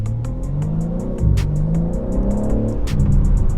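A 2021 BMW M3 Competition revs hard under acceleration, its loud engine note rising and surging continuously from inside the car, with rapid crackling pops layered on top.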